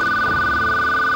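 A telephone rings with a loud, steady electronic tone that fills the short moment close up, with no talk over it.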